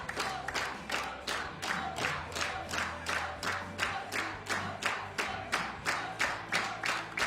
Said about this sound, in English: Yes, you can hear the applause.